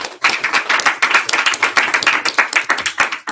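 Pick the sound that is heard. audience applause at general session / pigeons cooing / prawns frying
audience applause at general session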